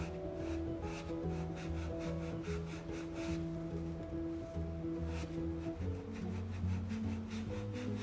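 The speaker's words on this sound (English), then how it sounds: "And I will try this magic eraser" A magic eraser rubs over a vintage Louis Vuitton Noe GM bag in steady, repeated scrubbing strokes, heard close over a constant low hum with no talking.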